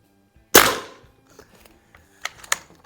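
Beeman Raider .177 PCP air rifle fired at an outdoor range. One sharp, close crack is followed by a quieter decaying tail, then two fainter snapping pops later, with no talking.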